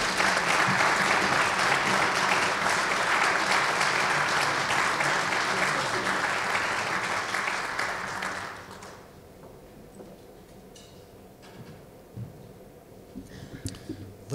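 An auditorium audience at a Gettysburg Address lecture applauding to welcome historian Dr. Ronald C. White, Jr., steady loud clapping for about eight seconds that fades out into quiet room noise with a few stray sounds.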